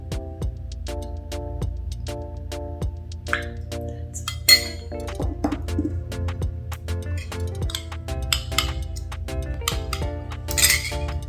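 Repeated light clinks of a spoon stirring red food colour and other lip tint ingredients in a small glass, a steady run of close, bright taps alone.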